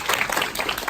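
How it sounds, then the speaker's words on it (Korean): Audience at a business leadership school session applauds a presenter, a brief burst of steady clapping close by. "김지선 사장님한테 큰 박수 부탁드립니다"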